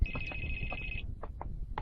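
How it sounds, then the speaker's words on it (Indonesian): A mobile phone ringtone chirps in a steady electronic tone for about a second, followed by a few short beeps, heard alone against a low background hum in a cartoon scene. "Suara itu jangan-jangan handphone"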